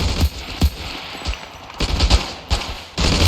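A semi-automatic machine gun fires in the war game Ravenfield, set in World War I trenches at Passchendaele, in loud, close, repeated short bursts with brief gaps.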